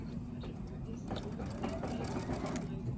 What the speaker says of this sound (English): it's just going to do our lineup mark for when we actually have to do the next row of quilting